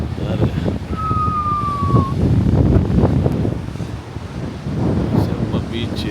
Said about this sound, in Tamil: செம்ம பீச்சு, சரியான காற்று.